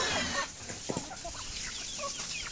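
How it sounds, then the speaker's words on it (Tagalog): Chickens cluck and chatter alongside ducks over a constant noisy outdoor background on a rural farm, with faint scattered bird calls throughout. "ang mga pato at manok"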